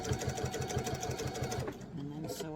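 A Duet Fuse sewing machine stitches fabric for a Bali bowl, its needle pounding in a fast, steady near rhythm for about two seconds before stopping, followed by a brief whirring mechanical tone.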